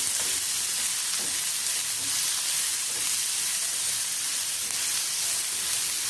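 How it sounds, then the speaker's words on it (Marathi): Chopped onion sautéing in a clay pan on the stove, a steady close sizzle and hiss that runs unbroken throughout, with soft scraping of stirring now and then. "कांदा छान परतून घ्यायचा आहे. तांबूस होईपर्यंत परतून घ्यायचा आहे."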